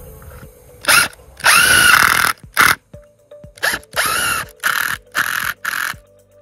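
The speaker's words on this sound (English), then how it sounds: "So I'm going to screw the corners together now." A power drill drives self-tapping screws into the wooden corners of an observatory wall frame: loud close whirring bursts of varying length, several in sequence with short pauses, over a faint steady hum.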